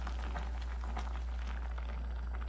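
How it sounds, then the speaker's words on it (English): Dried apples boiling in a pot of water give off a steady, soft bubbling simmer throughout, close and fairly quiet, with no talking. "The dried apples have come to a boil, and look how they've plumped up."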